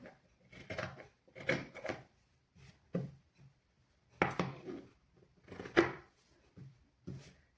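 Scissors snipping through fabric for children's clothes at a tailoring lesson, a series of quiet close crunchy cuts in irregular bursts separated by short silences.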